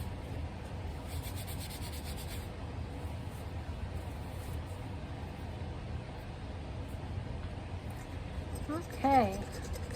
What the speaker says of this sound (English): take the paper towel, try to rub off the excess oil so this doesn't slide around too much on me